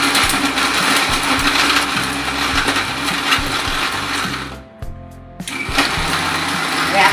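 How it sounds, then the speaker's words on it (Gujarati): A mixer grinder crushes cashews with turmeric and spices in loud, close bursts of motor whine, briefly pausing midway before restarting and running on steadily. "હવે આ બધું આપણે મિક્સરમાં ક્રશ કરી નાખીએ."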